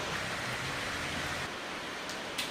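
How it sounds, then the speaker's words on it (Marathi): Heavy monsoon rain pours down steadily in a village during a red-alert storm, a dense, even roar with no breaks, heard from indoors. "सध्यासुद्धा मुसळधार स्वरूपाचा पाऊस चालू आहे"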